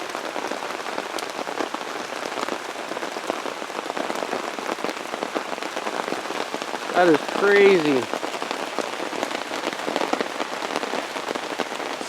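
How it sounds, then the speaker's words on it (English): Heavy rain pours steadily onto tarps during a storm, a dense continuous patter with a brief closer rustle near the end and a voice speaking briefly. "I think it might be raining harder now than it was the first night."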